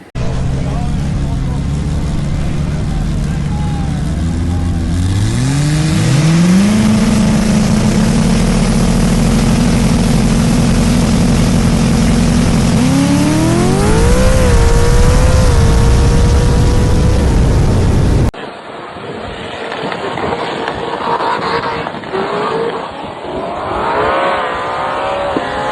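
A race car engine revs hard and loud, recorded from a competing car during a final, with rising and falling gear pulls and a sudden cut to rougher, more distant engine noise near the end.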